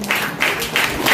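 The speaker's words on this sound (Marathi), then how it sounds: "जोरदार टाळ्या" An audience at a school student-felicitation ceremony claps in a short burst, the claps falling in a fairly even rhythm, loud and close, lasting barely over a second with no talk.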